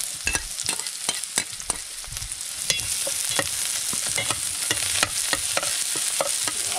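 Garlic, onion and ginger sautéing in a pan in a rural Filipino kitchen: a loud continuous sizzle with frequent sharp spatula scrapes and clacks, close up and without voices.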